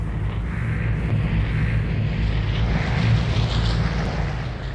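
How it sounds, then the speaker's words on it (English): A propeller airplane drones overhead in the video game Vigor, a loud, steady low rumble with a broad wash of engine noise that holds unbroken and slowly swells, with no talking. "I didn't want to talk while that plane was flying overhead."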